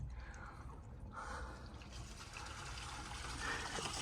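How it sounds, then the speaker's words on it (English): Water trickling and dripping through new drain piping in a residential crawl space, a faint, steady wash with light splashy drips and no talking. "running water down the drain lines so that we can make sure there's no leaks."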